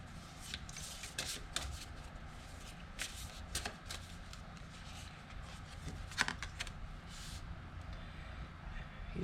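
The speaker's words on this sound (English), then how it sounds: "So we'll pull 4 cards here." Tarot cards being shuffled and pulled for a career and money reading, with repeated crisp riffling flutters and slaps, fairly close over a low steady background hum.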